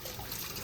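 Water from a tap rinses the filter screen of a Fisher & Paykel DishDrawer dishwasher, a brief, steady splashing hiss of running water, fairly faint and close, with no talking.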